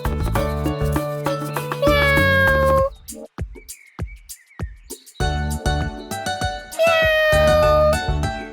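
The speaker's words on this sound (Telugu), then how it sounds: "ఒకరోజు పార్కులో ఆడుకుంటూ ఉండగా చూచూ చాచాలకి ఒక పిల్లి పిల్ల దొరికింది" A small kitten in an animated children's story gives two long, plaintive meows separated by a quieter pause with a few light clicks.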